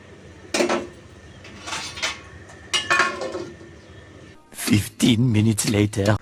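A metal lid set onto a pot of mixed khichuri, with clattering clinks of cookware and a sharp knock near the end, mixed with a person talking in the kitchen.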